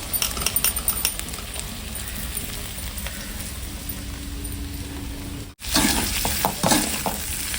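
Blood sautéing in a pan with onions, green chilli, ginger, curry leaves and mustard seeds, a loud continuous sizzle with clinking stirs that cuts out briefly before resuming even stronger.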